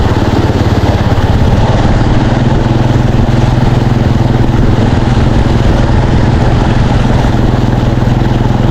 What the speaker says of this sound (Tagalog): Huwag lang mamatay talaga yung makina kasi makakahigop yan.